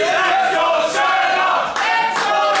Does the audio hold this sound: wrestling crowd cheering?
yes